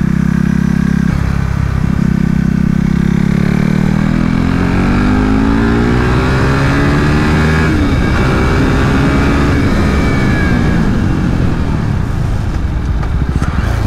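A KTM RC 390 Cup race motorcycle screams around the Adams Motorsport Park track, its loud, continuous engine rising and falling through repeated gear shifts, with swooping revs close to the microphone.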